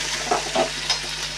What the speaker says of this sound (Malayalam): ഞാൻ ഇളക്കി കൊടുക്കാം